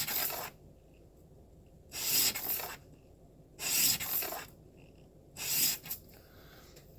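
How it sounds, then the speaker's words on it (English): Single-bevel broadhead rubbed on 400 grit sandpaper under light pressure, four separate raspy strokes spaced about every two seconds with quiet gaps, close and fairly soft. "I'm just letting the sandpaper work for me."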